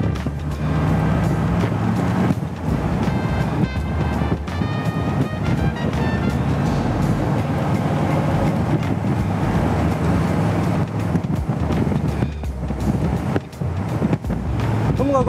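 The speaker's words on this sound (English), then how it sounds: "好啦，踩下佢，聽下 V8 聲。" A 1973 Corvette Stingray C3 with a V8 accelerates on a Hong Kong road, its engine a loud, rough, broadband roar heard from inside the car, rising and surging across the stretch along with some wind buffeting.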